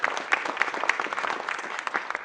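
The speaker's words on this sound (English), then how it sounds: "can we give her a round of applause?" Audience at an economic summit giving a round of applause, steady moderately quiet clapping from a room full of people with a few sharper individual claps standing out.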